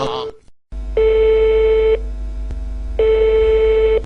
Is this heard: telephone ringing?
yes